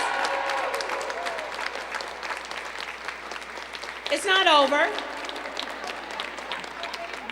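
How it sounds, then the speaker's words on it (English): Audience applause at a Women's History Month celebration in the Mayor's office, steady clapping throughout with voices talking over it and a brief burst of cheering midway. "Let's give them all a big round of applause."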